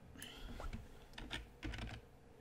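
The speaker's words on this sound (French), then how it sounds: "si je tape un texte ici" Quiet, close keystrokes as text is typed on a computer keyboard, a few scattered taps and short clusters of clicks over a faint background.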